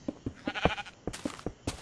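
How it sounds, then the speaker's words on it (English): Minecraft sheep bleat in quick succession, short nasal game sounds repeating close and clear, mixed with a few rapid clicking effects. "Sheep!"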